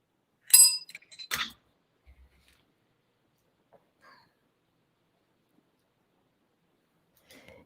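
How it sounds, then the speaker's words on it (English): A hand bell rung twice in quick succession, bright sharp rings close by that decay fast, followed by long near-silence with a few faint clicks. "I'll try not to ring the bell too much"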